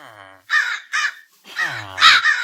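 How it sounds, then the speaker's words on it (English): Crows in a Minecraft Create modpack world give loud, close, harsh caws, about four or five distinct calls in quick succession with short gaps between them. "Do I have that many crows following me?"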